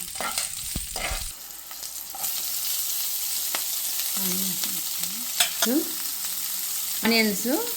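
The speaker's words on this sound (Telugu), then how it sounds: "హాఫ్ స్పూను పసుపు వేయించుకోవాలి." Dried red chillies and turmeric frying in a pan, a close continuous sizzle broken by scraping stirs and a few short squeaky clatters of the spoon against the pan.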